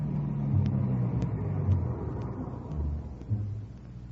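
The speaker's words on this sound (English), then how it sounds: "got in the car, and we drove off" A car pulls away and drives off as a radio drama sound effect, a low steady engine rumble with faint periodic ticking over it, moderately loud and alone without talk.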